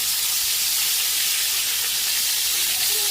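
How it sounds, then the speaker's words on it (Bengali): Pointed gourd (potol) frying in mustard oil in a pan, a steady loud hiss and sizzle held close throughout. "পটলগুলোকে আমি উল্টে পাল্টে ভেজে নেব।"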